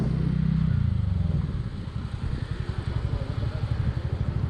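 A TVS Ntorq 125 scooter pulls away in eco mode. A smooth engine drone starts it off, then gives way to a pulsing, throbbing engine note that rises and falls rhythmically, close to the rider.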